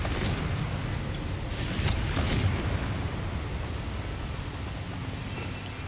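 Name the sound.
Confringo spell blast in a video game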